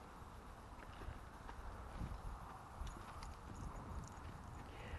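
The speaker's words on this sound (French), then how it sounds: "Dis au revoir au cheval." Horse hooves clip-clop on ground outdoors in the Vercors Alps, a steady run of soft hoof falls under constant wind noise, moderately close, with no voices.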